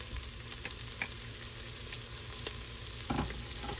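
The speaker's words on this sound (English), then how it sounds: "I'm not going to saute these onions. Sorry. I'm not going to saute them too long." Onions sautéing inside an Instant Pot after beef was browned give a continuous frying hiss, with light stirring scrapes and a brief clunk near the end.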